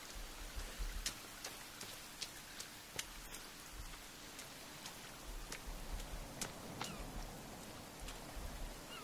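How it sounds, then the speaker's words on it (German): Rain falling in the survival game The Forest, a soft steady patter with scattered sharper drop ticks and clicks, heard faintly and alone without any voices. "Ich bin so froh, dass es regnet."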